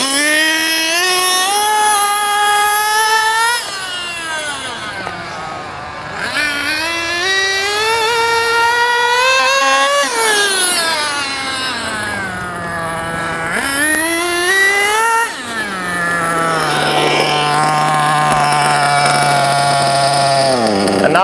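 A JQ Products THERTR model engine runs during break-in, a loud close buzzing whine that repeatedly climbs in pitch, drops back and climbs again before settling to a lower steady idle.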